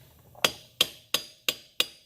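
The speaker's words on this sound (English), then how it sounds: "We don't have a mallet, so we're going to be using a hammer." A hammer taps five times at an even pace on a dirt bike wheel bearing, each strike a crisp, ringing metallic knock, close and clear with no talking.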